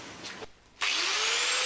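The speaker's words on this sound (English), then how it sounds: "There's a spot weld on it, well there, so I'll drill that" A drill bores out a spot weld on a camper van headlight surround panel, starting after a brief pause with a loud, steady high whine and a slowly rising tone that runs to the end.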